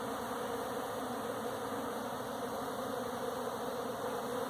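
Honeybees fan at a hive entrance, a steady, dense buzzing drone that stays even and fairly faint throughout, with no voices.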